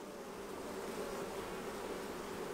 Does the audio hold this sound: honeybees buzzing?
yes